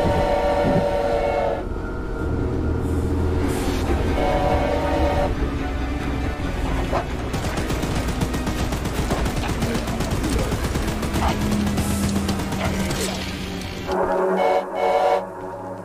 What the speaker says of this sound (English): Being chased by Choo Choo Charles.